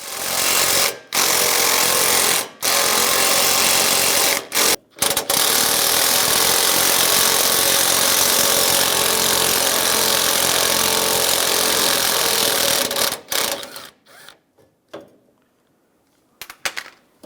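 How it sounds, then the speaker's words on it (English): A loud power tool with a 10mm socket removes bolts from the radiator support of a 2007-2013 Chevrolet Silverado, running in long continuous whirring bursts with a couple of brief gaps before stopping into quieter clicks. "Take these 2 bolts out, use a 10mm socket."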